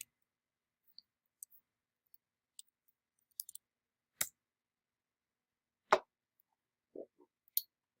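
Calculator buttons pressed one at a time while a matrix is entered, sparse light plastic clicks at an irregular pace, close and quiet with silence between presses.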